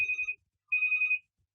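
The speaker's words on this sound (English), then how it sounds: "somebody's phone is ringing" A phone rings twice with short electronic tones separated by a brief gap, clear against a quiet background.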